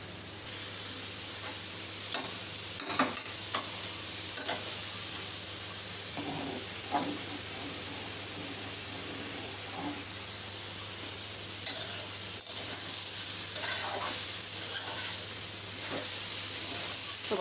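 Dal cooks in a pan with a pinch of radhuni spice, giving a steady loud sizzle and hiss over scattered stirring scrapes and clinks, the frying growing brighter toward the end, with no voices.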